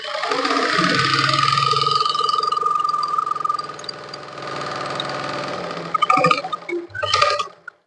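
A sewing machine runs a full seam in a steady, fast mechanical whir, then slows into a few separate clicks and thumps as it stops near the end.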